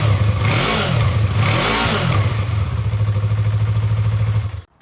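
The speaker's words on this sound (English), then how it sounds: "I've just got the stock exhaust because I'm still pretty new to biking, and it's a pretty good sound still." A 2019 Yamaha R3 motorcycle with its stock exhaust is revved, the engine note sweeping up and falling twice before settling into a steady, loud, close idle-rev drone that cuts off abruptly.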